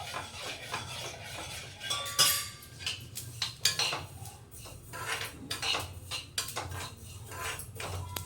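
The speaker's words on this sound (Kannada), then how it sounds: "ಅದಕ್ಕೆ ನೀರು ಹಾಕಿ ಮಿಕ್ಸ್ ಮಾಡ್ಕೊಬೇಕು." Jaggery being stirred with water in a metal pot for sesame laddu, irregular clinks and scrapes of a spoon against the vessel, fairly quiet and close, with no talk.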